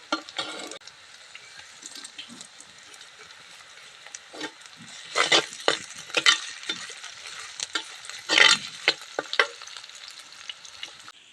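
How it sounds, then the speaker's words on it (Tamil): Onions and dried red chillies sautéing in a pan for tamarind rice, a low sizzle broken by repeated scraping stirs of a spoon, with bursts of louder crackle as the mixture is turned. "வெங்காயம் நல்லா வதக்கலாங்க. இதாங்க நல்லா வதக்கணும்."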